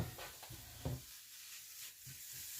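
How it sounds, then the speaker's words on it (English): Soft, steady sizzling of garlic frying in a pan without oil or butter, with a few faint stirring scrapes near the start, quiet and close. "once you can hear that sizzle, you can put it on low"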